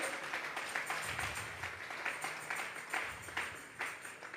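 Congregation clapping together during a Sunday church service, a steady broadband patter of many hands with rhythmic pulses, moderately faint and continuous throughout, with no speech over it.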